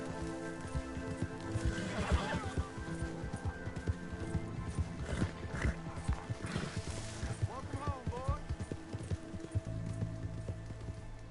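A horse in Red Dead Redemption 2 clops along with rhythmic hoofbeats and gives a whinny or two, under game ambience and steady speech throughout.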